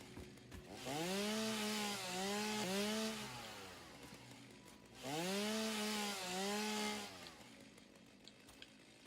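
Video game chainsaw revving in two sustained bursts with rising and falling pitch sweeps, a short pause between them, loud and close with no talking.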